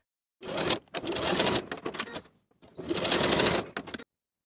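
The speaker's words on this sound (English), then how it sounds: "Edge stitch along both long edges for each carrier piece." Up close, a sewing machine edge-stitches stretch denim belt carrier pieces for a pair of jeans in two brisk runs separated by a short pause, loud and clear with no talking.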